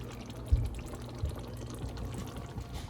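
Mushroom broth poured into a simmering palava sauce stew, a short wet liquid splash with a couple of soft low thumps over quiet kitchen background.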